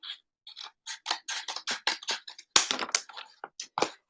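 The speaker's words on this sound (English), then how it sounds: "you're just going to take them and cut all of them this way" Scissors snipping through cardboard towel rolls into narrow strips, a quick run of crisp, close cuts and crunches, loud and rhythmic, with no voices.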